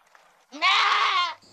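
A single loud, close goat bleat, a wavering nasal cry lasting under a second, preceded by faint low murmuring.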